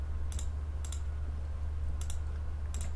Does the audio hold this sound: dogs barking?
no